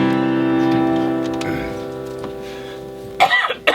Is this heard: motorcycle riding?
no